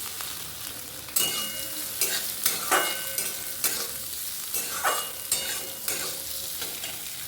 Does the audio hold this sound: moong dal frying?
yes